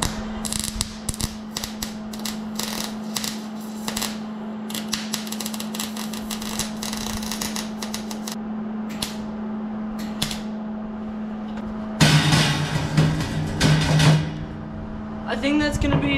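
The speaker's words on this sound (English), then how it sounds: "let's get start welding" Arc welding on steel for a small homemade trailer, with the welder on its lowest setting: a steady crackling buzz that runs for long stretches, broken by short pauses and a louder burst near the end.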